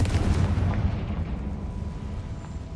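Confringo fire spell blast in the video game Hogwarts Legacy, a deep booming explosion that hits at once and then rumbles and fades over a few seconds, with no talk.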